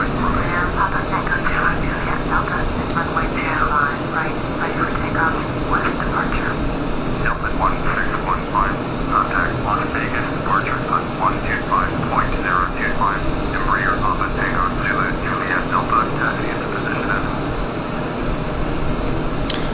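Simulated jet engines of an Embraer ERJ-145 taxiing toward the runway in a flight simulator, a steady whining drone with a broad roar throughout, heard under a voice talking.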